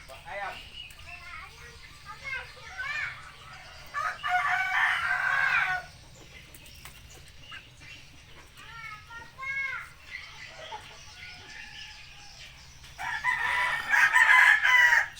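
Chickens sick with a cold call nearby in several loud bursts, one of them a crowing rooster, while a person talks between and under the calls.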